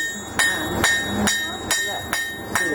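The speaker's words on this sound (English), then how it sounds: "Let the hammer do the work." Hammer blows on hot metal at a blacksmith's anvil while a hanging hook is forged, six sharp ringing strikes at a steady, fairly even pace, close and loud over a low background hum.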